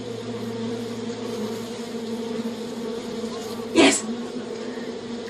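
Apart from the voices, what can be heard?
bees buzzing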